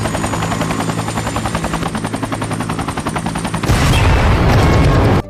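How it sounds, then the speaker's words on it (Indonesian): In Olympus Has Fallen, a helicopter carrying the President lifts off with a loud, rapid rotor chop, then erupts into a roaring explosion whose dense, rumbling blast cuts off abruptly near the end. "setelah beberapa detik terbang, helikopter pun meledak"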